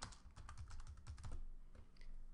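Rapid, light clicking of keys on a computer keyboard, a steady flurry of taps close by that slows toward the end.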